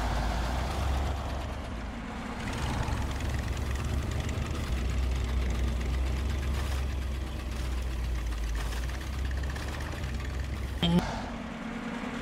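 Tractor engine in the SnowRunner video game, hauling a school bus tied on by rope through deep ground, drones as a continuous low rumble throughout, with one short sharp knock near the end.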